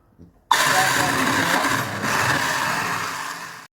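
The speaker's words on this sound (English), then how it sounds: "we're going to go ahead and use our hand mixer to mix everything together so they incorporate properly" An electric hand mixer whirring through homemade whitening skincare cream, switching on abruptly after a brief faint sound and then running loud and steady with a small dip in pitch midway, close up with no talk.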